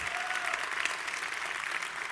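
Steady applause from a church congregation during a sermon, dense and even throughout, with a faint crowd wash and no speech over it.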